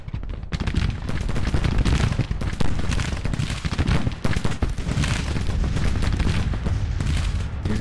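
Artillery fire during the 1862 Second Battle for Washington in the strategy game Grand Tactician: Civil War: a loud, sustained barrage of booming cannon shots and crackling gunfire that rolls on without a break.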